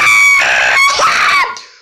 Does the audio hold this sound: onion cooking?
no